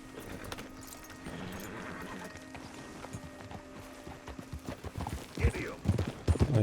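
Horse hooves clip-clopping in Red Dead Redemption 2, a steady trotting rhythm under game ambience that grows louder and heavier near the end, with speech over it.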